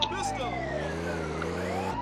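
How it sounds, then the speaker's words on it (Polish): An ambulance siren from the video game GTA 2 wails loudly and continuously, with gliding electronic tones sweeping over a steady engine drone. "Widzę, że karetka jedzie po chodniku"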